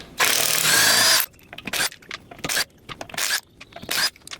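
A wrench with a 19 millimeter socket ratchets and whirs in a long burst, then in shorter intermittent bursts of clicking as lug nuts are loosened on a 1989 Porsche Carrera.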